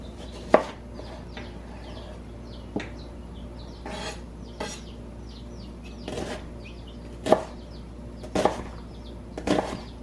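A knife chops an onion on a board in a home kitchen, with irregular sharp cuts, some isolated and some in quick little clusters, sounding close and clear with no talk.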